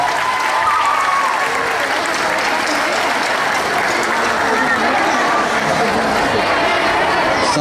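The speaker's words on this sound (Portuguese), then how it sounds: "uma salva de palmas que eles já merecem nesse comecinho" Sustained, loud applause from a crowd at a school graduation ceremony, dense and steady throughout with a murmur of voices mixed in.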